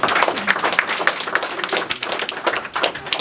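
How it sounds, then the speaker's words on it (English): An audience at an export/import business seminar applauds a guest speaker with steady, close, fairly loud hand clapping. The sharp individual claps overlap into a dense patter that lasts several seconds and has no talking over it. "give a round of applause to Mr. Kevin Dow"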